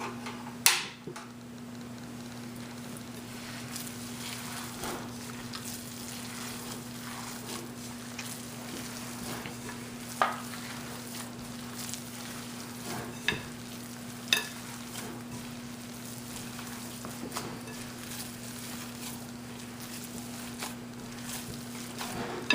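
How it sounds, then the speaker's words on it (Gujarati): Kebab mixture frying in hot oil on a stove: a continuous soft sizzle and bubbling with a few sharp ticks and clicks, close but fairly quiet, steady throughout with no talking. "પણ હું આજે એને તળી નાખીશ"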